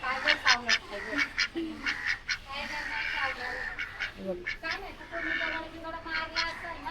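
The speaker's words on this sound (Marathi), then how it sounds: "बदक कसं चोच मारल बघा आता" A duck quacks repeatedly in close, nasal bursts while pecking, with people talking over and between the calls.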